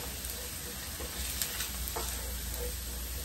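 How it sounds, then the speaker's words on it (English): Ground beef steaming and sizzling in a pan with added water, a steady wet hiss with faint scraping and bubbling, fairly quiet and close. "we went from frying to steaming"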